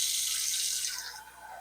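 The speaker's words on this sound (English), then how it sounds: "I'm going to add just a little bit more water." Water poured from a tap into a pot of moose stew being prepared for canning, a steady broadband splashing rush that fades gradually toward the end.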